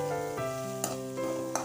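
Frying bottle gourd with a ground mix of peanut, dried chilli and garlic gives a quiet, even sizzle under a steady hum, with three brief scraping taps spaced across the short stretch.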